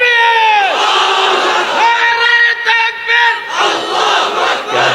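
A large crowd at a religious gathering chants the Nara-e-Takbir slogan in loud, ringing unison, with a leader's call answered by many voices in a rising and falling chant.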